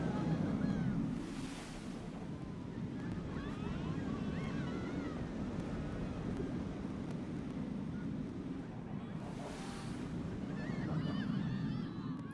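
Water splashes on a coaster ride in the Planet Coaster video game as two washy surges over a steady rushing background, one near the start and one near the end.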